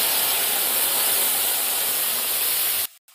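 Ground masala spices going into hot oil in a frying pan after frying, giving a loud, steady, broadband sizzle and hiss that runs without a break before cutting off abruptly near the end.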